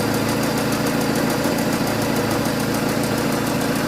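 A Peugeot 307 petrol engine runs just after a cold start, steady and loud, with a fast ticking, knocking pulse over a constant mechanical drone and no voices.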